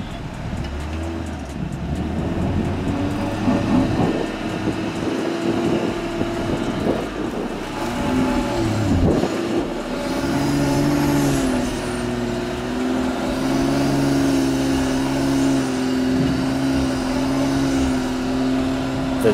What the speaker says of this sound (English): The driver holds stable revs, but no effect.